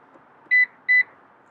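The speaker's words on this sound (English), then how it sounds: "You'll hear 2 beeps, and the seat will fold either down or up, depending on where you've pressed." Two short, clean electronic beeps, evenly spaced, sound from a 2021–2022 Lexus RX as its power seat begins folding, with near silence between and around them.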